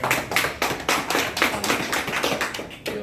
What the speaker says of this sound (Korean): 우리 박수를 청해 듣겠습니다